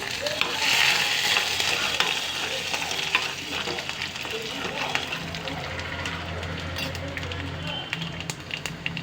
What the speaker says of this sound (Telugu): వేసాను వేగుతున్నాయి ఇప్పుడు ఏం చేద్దామంటే అల్లం ముక్కలను నేను మిక్స్ చేస్తాను